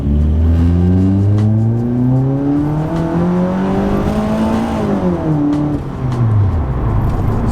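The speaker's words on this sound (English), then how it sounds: "So that was the first gear pull," A car engine revs hard and climbs steadily in pitch, loud and close, then drops briefly as the gear changes before pulling again.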